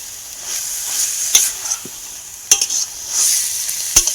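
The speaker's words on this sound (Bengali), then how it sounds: "পলতা শাকের সঙ্গে ভালো করে এই আলুটাকে কষিয়ে নিতে হবে" Potato stir-fried with palta leaves in a pan: a soft continuous sizzle broken by several sharp spatula scrapes and clacks against the pan at irregular intervals.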